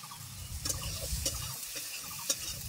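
Ground coriander and cumin sizzling in hot oil in a pan while cooking an okra and poppy seed dish, a soft steady fry with a few scraping stirs and light clinks, faint and without talk.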